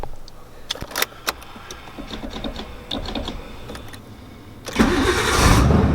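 A Nissan 240SX fitted with a new exhaust: after some clicks and rattles the starter cranks and the engine fires, settling into a loud, steady idle close by, with no talk.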